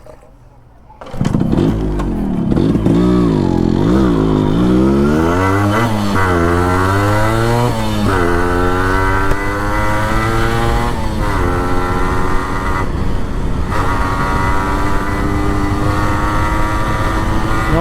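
A Yamaha RX100 two-stroke motorcycle with a replaced muffler starts up, then revs repeatedly in rising and falling surges over a rough idle, loud and close, with occasional voices underneath.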